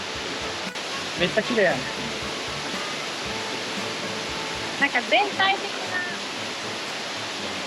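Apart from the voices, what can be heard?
Uryu waterfall in Nakatsu Gorge, Kochi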